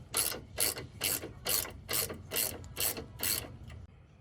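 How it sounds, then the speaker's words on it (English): A 14 wrench ratchets a nut tight while fitting a RockJock Anti-Rock sway bar: eight evenly spaced, crisp clicking strokes close up, each a short burst of ratchet pawl chatter, then quiet. "Then this nut goes under there. And then we'll tighten that down. This is a 14 on the top and the bottom."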